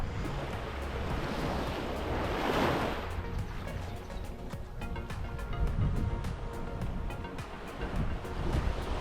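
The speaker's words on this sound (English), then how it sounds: "The convergence of both swash and backwash mechanisms along the coast result in the formation of waves" Ocean waves break and wash along a coastline, a steady broadband rush of surf with one stronger swell midway, heard alone with some wind noise.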